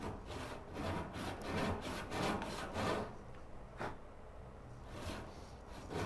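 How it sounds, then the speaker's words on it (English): Rhythmic back-and-forth strokes of a hand saw cutting through a big piece of cherry hardwood, steady rasping pulses that pause briefly, then resume, close and fairly loud. "Right now I'm sawing up a big piece of cherry."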